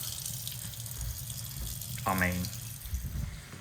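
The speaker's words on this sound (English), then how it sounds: "And if I turn this kitchen tap on" A kitchen tap runs cold water at low pressure, a steady rushing hiss through most of the stretch, while someone speaks briefly.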